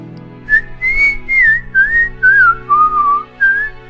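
A person whistles a short wandering tune of several sliding notes in separate phrases, close and clear with a faint hum underneath.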